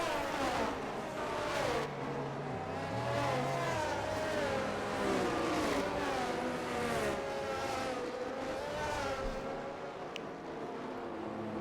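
A race car engine heard from on board the race leader's car during a circuit race at Miami, droning steadily with rising and falling pitch through gear changes, loud and continuous throughout.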